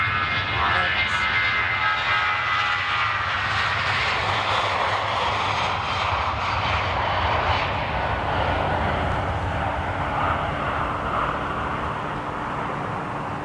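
A jet airliner roars at Amsterdam Schiphol airport, a loud, steady, broadband engine rumble with a whining tone that slowly falls in pitch as it passes and continues throughout.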